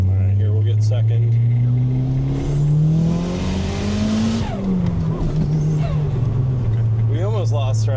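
An all-wheel drive car, a Mitsubishi Eclipse, revs hard through second gear with a rising, loud engine note that briefly falters as traction slips, while people in the cabin talk over it.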